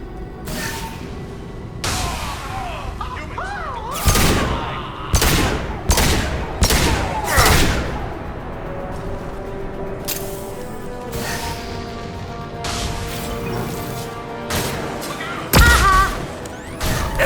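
Gunfire in the video game Mass Effect 2 during combat: repeated sharp shots and heavy thuds in irregular bursts, some loud and close, over a steady background hum, with brief game voices.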